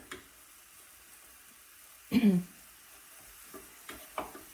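Hamburger meat browning in a pan over medium heat makes a faint sizzle, broken by a loud scraping burst of stirring midway and a few lighter scrapes near the end.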